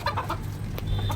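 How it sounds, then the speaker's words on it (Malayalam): Chickens give short, close clucks in quick succession while drinking water, with faint background noise and no talking. "കോഴികൾ സന്തോഷമായിട്ട് വെള്ളം കുടിച്ച് കിടക്കട്ടെ."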